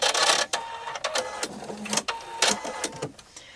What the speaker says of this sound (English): This takes seconds on a serger.